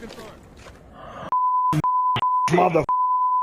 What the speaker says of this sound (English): That might have been the most beeps ever on this channel.